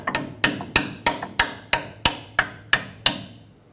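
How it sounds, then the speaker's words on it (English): Ten sharp metallic hammer strikes drive a metal sleeve down on a Ford F-350 front steering knuckle, landing in a steady rhythm, each ringing briefly before the next blow, close and loud with no voices. "make sure you hammer it down most of the way"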